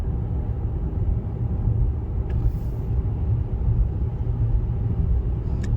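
A Chevy Blazer EV AWD accelerates at full throttle on the highway, a loud steady low cabin rumble of road and wind noise with a faint electric whine, continuous throughout.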